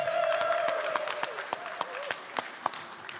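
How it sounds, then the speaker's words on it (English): Scattered applause at a Web3 gaming panel in a convention hall, several sharp individual claps spaced out over a sustained tonal hum, thinning toward the end with no voices heard. "Hand of applause."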